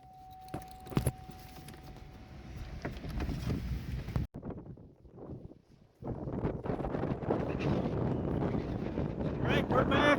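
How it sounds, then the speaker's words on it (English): Gusty wind on the Bay of Fundy shore buffets the microphone in broadband rumbling bursts, with a brief lull midway before the roar picks up again, loud and close. "It's windy."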